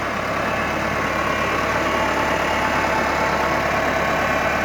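A John Deere tractor engine idles on a family farm in South Bar, Cape Breton, Nova Scotia, giving a steady, fairly loud mechanical rumble that holds constant without pauses.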